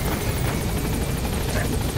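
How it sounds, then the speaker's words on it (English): A support helicopter in the video game Metal Gear Solid V flies overhead with a steady, loud, dense rotor roar that fills the whole span. "I think it's the chopper trying to lay down some cover fire"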